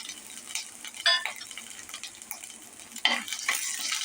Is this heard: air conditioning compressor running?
no